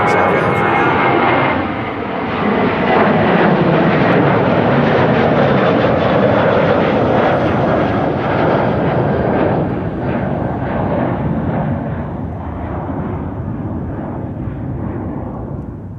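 Jet airliner departing east from runway 18 Left at Amsterdam Schiphol Airport, a loud, broad roar of engines at full power that rumbles steadily and slowly fades as the aircraft climbs away.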